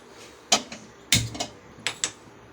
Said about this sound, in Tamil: வாங்க அடுப்பு பற்றச்சிக்கலாம்